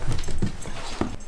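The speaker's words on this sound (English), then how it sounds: "And that's my dog." Large female dog making short whimpering, yelping sounds, a few brief close-up bursts in quick succession.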